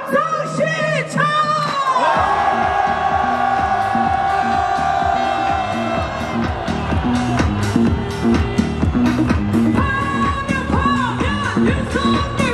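A large crowd outside the Constitutional Court roars, cheers and whoops loudly in celebration on the day of the impeachment ruling, with amplified chanting and shouting rising in waves throughout.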